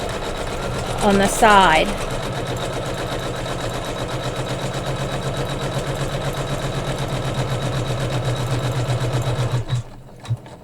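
A sewing machine stitches quilting along the border of a Kimberbell pillow, a fast, even mechanical chatter running steadily for about nine seconds before stopping. A brief spoken remark cuts in near the start.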